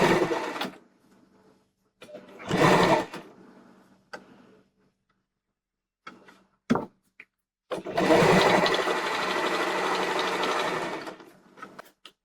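A sewing machine stitches a tie-cutter section on a tight skirt in bursts: a short run, a longer burst near three seconds, brief taps, then a sustained loud run from about eight to eleven seconds.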